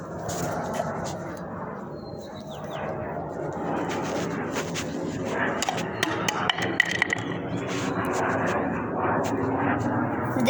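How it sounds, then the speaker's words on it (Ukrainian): Airplanes drone overhead in a steady, rumbling wash that swells slightly over the clip, mixed with scattered crackles and outdoor clatter nearby. "Літаки летять."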